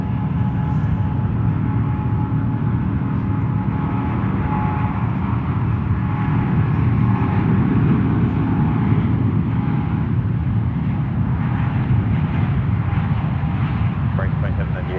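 United Airlines airliner on its takeoff roll down runway 28 left at San Francisco International, a steady broadband jet engine roar holding loud and even throughout, with radio voices talking over it.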